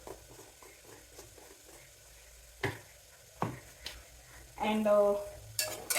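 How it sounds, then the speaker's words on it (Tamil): Masala for brinjal biryani, cooked in very little oil, is stirred in a pan. Scattered scrapes and clinks of the spoon against the metal sound over a faint sizzle, with brief talk in the background. "இந்த மாதிரி மிக்ஸ் பண்ணி விட்டுட்டே இருக்கணும். இல்லைனா போய் அடி பிடிச்சிக்கும்."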